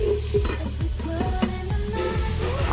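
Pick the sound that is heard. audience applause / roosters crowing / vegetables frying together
vegetables frying together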